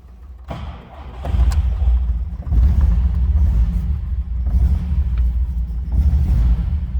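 A 1963 Mercedes-Benz 190SL starts by push button with the choke not pulled, catching with a short thump and settling into a deep, close, uneven idle rumble that swells in waves.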